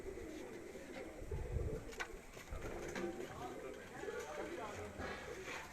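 Quail-type pigeons coo softly at a rural loft, their low, repeated coos heard faintly beneath people talking nearby.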